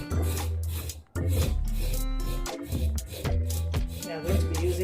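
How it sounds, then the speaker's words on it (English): A carrot is rubbed against a grater in quick repeated rasping strokes, close and fairly loud, with a brief pause partway through and faint talk in the background. "so I'm going to be grating the carrot as well"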